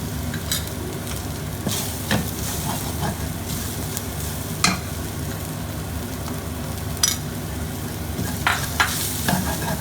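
Chopped green chilies and turmeric fry in a pan, making a constant low sizzle broken by several sharp spoon scrapes and taps against the pan, close up and without speech.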